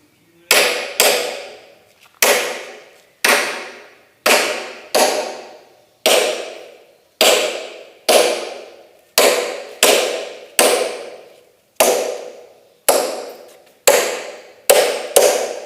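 Steel punches are hammered into aluminium to carve relief art, giving sharp metallic strikes in pairs and small clusters, spaced about a second apart, loud and close with no talk.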